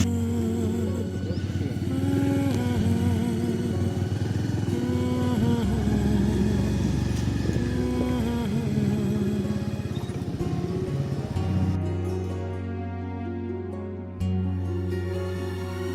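A motorcycle engine rumbles steadily, rising and falling as it revs, with music playing over it toward the end.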